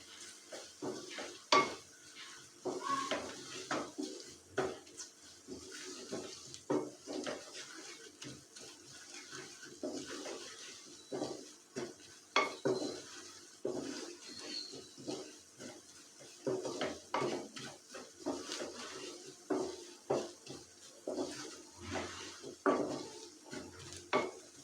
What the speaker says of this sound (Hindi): अब हम इसमें डालेंगे 1 चम्मच मैदा। मैदे को भी हम अच्छे से मिक्स कर लेंगे।